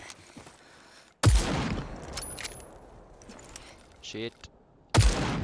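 Rapid gunfire from an enemy Gatling soldier in the shooter game Super People, loud bursts opening and closing a short stretch of game noise, with a man's brief curse in between.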